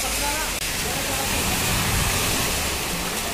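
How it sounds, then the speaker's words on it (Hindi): Dense, loud rush of heavy rain pours continuously over a waterlogged street in Ajmer, India, a thick hissing wash with a faint voice buried beneath it. "बहुत तेज़ बारिश आ रही है, बहुत तेज़।"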